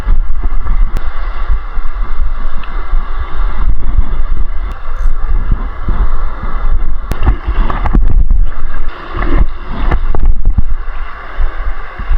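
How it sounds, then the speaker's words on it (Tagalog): Loud, gusty wind roars across the microphone throughout, with rumbling buffets and occasional clicks, no clear talking. "Malakas yung hangin."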